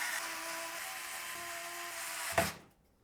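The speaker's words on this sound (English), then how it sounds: "we'll secure it into place with 12 of the short radiator screws" Electric screwdriver driving short radiator screws into a SAMA S50 PC case, a faint steady whine for a couple of seconds ending in a sharp catch as the screw seats, then quiet.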